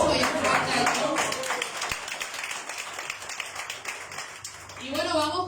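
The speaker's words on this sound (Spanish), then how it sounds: "vamos a dar un aplauso y un fuerte aplauso" Audience at a church talk on the Reformation's five solas gives applause, a moderate clapping burst that carries through, with a voice speaking over it toward the end.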